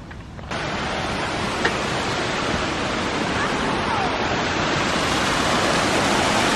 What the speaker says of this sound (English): Can you guys hear like the water? I think we're about to get to the waterfall